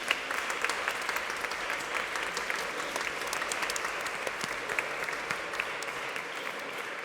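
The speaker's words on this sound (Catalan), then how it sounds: "Un fort aplaudiment per ell," A crowd at a Christmas concert in Barberà del Vallès applauds the percussionist, Tito Martí, with steady, moderately distant clapping that holds evenly throughout.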